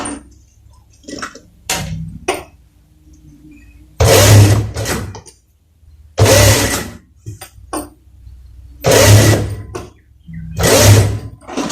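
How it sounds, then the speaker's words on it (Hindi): A sewing machine stitches the round neckline of a kameez in several loud, close bursts of rapid mechanical whirring, each lasting about a second or two. Between the runs come quiet gaps with small clicks and the sound of fabric being handled. "तो अभी हम सिलाई लगाएंगे।"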